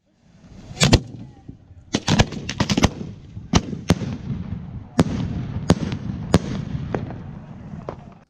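Fireworks fired one after another by a fireTEK firing system stepping through its cues, producing sharp, loud bangs spaced roughly every half second to second, with crackling tails between them.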